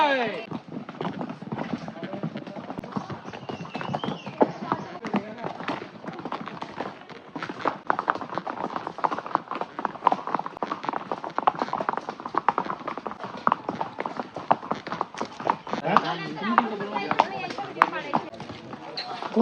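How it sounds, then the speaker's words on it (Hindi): Horse hooves clip-clopping steadily during a horse ride in Matheran, a continuous rhythmic patter with people talking and cheering loudly over it throughout. "घोड़े की सवारी तो हो गई है।"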